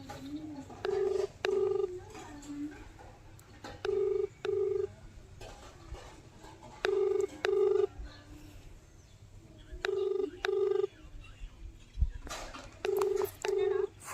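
A phone call ringing unanswered: a repeating double ring-back tone sounds five times at steady intervals, fairly faint over quiet room background.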